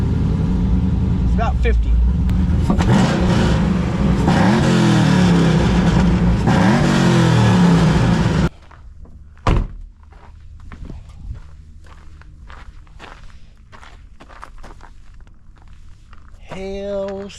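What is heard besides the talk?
V8 car engine running after rebuild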